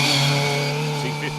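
A 2-litre Ford Escort rally car on a hillside forest stage gives a brief nearby engine drone with a shifting pitch, likely mixed with a commentator's voice.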